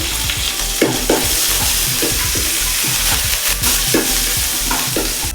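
Fresh curry leaves sizzle and crackle loudly in hot oil, a steady frying hiss with sharp pops and stirring scrapes throughout, no voices.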